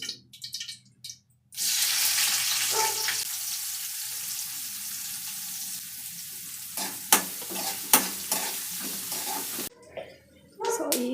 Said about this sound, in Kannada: ಇವಾಗ ಒಗ್ಗರಣೆ ಮಾಡ್ಕೊತೀನಿ.